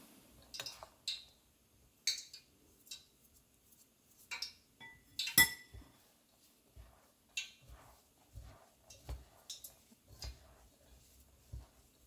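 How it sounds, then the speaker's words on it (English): A spoon working hot rice cracker dough of flour and oil in a bowl: irregular close clinks and taps of metal against the dish, spaced out with quiet gaps between strokes. "So it is hot, so I am mixing it with a spoon."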